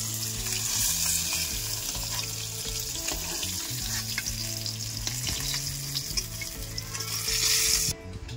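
Koi fish frying in oil, with a close, continuous sizzle and crackle, stirring noises on and off, and a brief clatter near the end.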